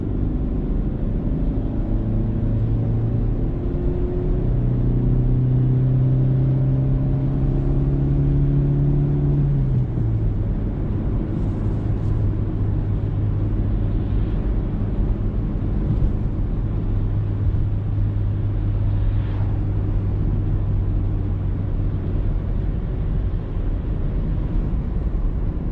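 A gasoline-fuelled car engine runs steadily while driving, after an engine and fuel tank cleaning treatment, giving a continuous low rumble with a shifting tone partway through as the engine note changes, with no talk over it.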